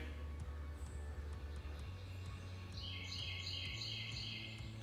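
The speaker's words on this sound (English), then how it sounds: "The birds sound awfully pretty today." Birds sing outdoors with a cluster of high chirps and trills in the later half, faint and distant over a low steady background hum.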